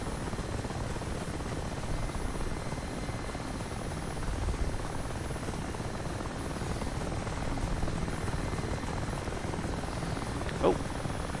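In DCS World, an Mi-8 Hip helicopter's engines and rotor drone steadily at a moderate level for the whole stretch, a dense even roar with a brief sharper blip near the end.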